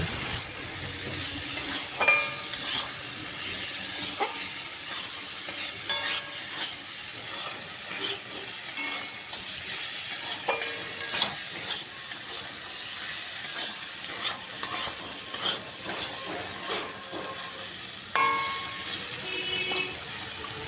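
Jackfruit seeds frying with salt and turmeric, a soft continuous sizzle broken by repeated scrapes and clinks of a spoon turning them in the pan, close and moderately loud throughout.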